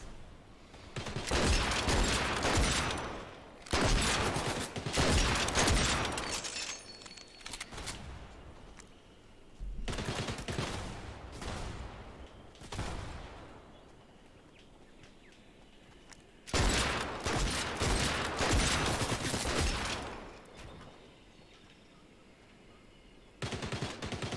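Repeated bursts of automatic rifle fire in the video game Fortnite, loud and sustained, coming in several long volleys separated by brief quieter gaps, with no talk over it.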